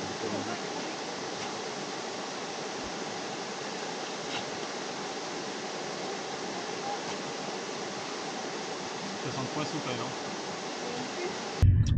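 Rushing water at the Hérisson waterfall fills the scene with a steady, dense roar that holds from start to end, while people talk nearby over it.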